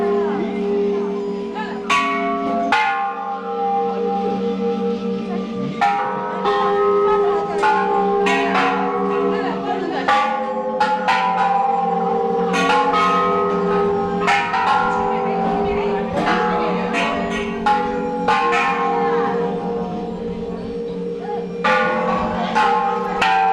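Bells at a Buddhist temple in Thailand are struck one after another, giving a steady run of resonant metallic strikes with long ringing overlaps, loud and nearby, while people talk.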